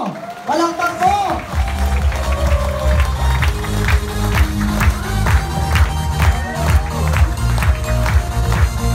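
Event audience clapping as a speaker is welcomed, applause rising quickly and continuing over loud background music with a steady beat, with voices mixed in.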